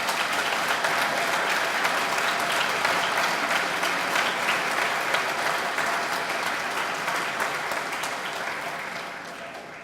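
An audience at a solar project celebration applauds steadily for about ten seconds, dense continuous clapping close and loud that gradually tapers near the end.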